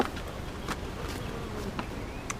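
Honeybees in the top box of an opened, smoked backyard hive give a close, continuous buzz with scattered louder passes of single bees near the listener.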